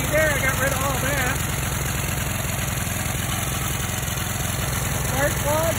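A small engine converted to run on biogas instead of gasoline, its carburetor and fuel tank removed, idles with a steady low throbbing chug that continues evenly throughout.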